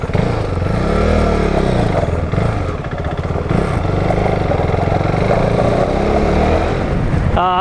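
An SSR SR70 fully automatic pit bike buzzes loudly and close as it rides a desert path in Arizona, its small engine revving and dipping with a rattly drone throughout.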